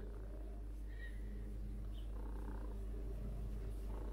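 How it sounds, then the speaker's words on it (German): A soft, steady cat purr, low and continuous, close by and fairly quiet, with faint rustling on top. "Sonst schnurrt sie viel, viel lauter."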